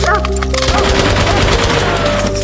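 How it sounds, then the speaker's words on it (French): Burst of rapid gunfire in a Japanese army attack on Chinese villagers, dense overlapping shots ringing loud over a low rumble, with a dog barking early on. "les coups de feu ont retenti."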